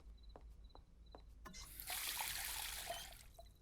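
Water is poured for a thirsty cartoon rabbit in Simon Super Rabbit, a soft splashing rush lasting about a second after a few faint beeps and a light knock.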